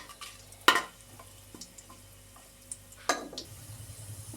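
Dry fruits fry in ghee in a pan on the stove: a soft, steady sizzle with two sharp stirring scrapes and clinks of a spoon against the pan, quiet and close, with no talking.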